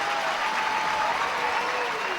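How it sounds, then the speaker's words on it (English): An arena crowd applauds steadily as Coventry Blaze ice hockey player Beleskey leaves the ice, a sustained even wash of clapping with faint crowd noise and a thin tonal hum. "Beleskey getting applauded as he leaves the ice"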